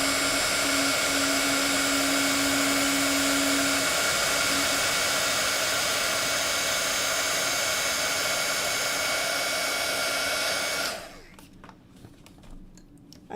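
A handheld embossing heat tool blows a loud, steady high-pitched whooshing whine for about eleven seconds while melting clear Nuvo embossing powder, then switches off abruptly, leaving quiet room sound.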